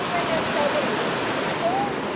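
Clear stream water rushing steadily as someone dunks her hair, a loud broadband wash that stays constant throughout, with faint brief voice sounds under it.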